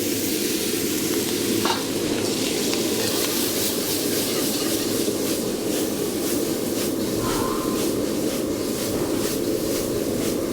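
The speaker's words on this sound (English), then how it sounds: "All right, sauteing that up." Garlic and fresh ginger sauté in oil in a wok, giving a loud, dense, continuous sizzle close up with faint scraping as the pieces are tossed.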